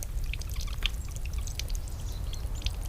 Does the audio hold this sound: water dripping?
yes